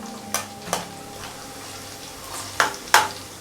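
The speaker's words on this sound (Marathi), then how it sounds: "लसूण पण आपल्याला मस्त असा तळून घ्यायचा आहे लो फ्लेमवरतीच लसूण तळायचा" Garlic frying in oil on a low flame for crunchy chivda makes a soft, steady sizzle, punctuated by four sharp metallic clinks of a spoon against the pan.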